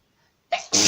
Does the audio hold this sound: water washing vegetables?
no